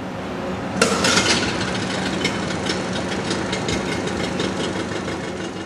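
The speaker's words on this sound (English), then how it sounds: "Run the engine at idle for 30 to 60 seconds and close the drain valves." An Evinrude 55 MFE outboard engine starts with a sharp burst, then idles in a steady, rough, knocking rumble close by, with no voices.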